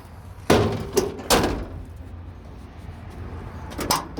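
A Ford Dentside pickup door fitted with Super Duty weatherstrip is shut several times, producing heavy thunks close by, two strong closes early and another near the end, with no talking.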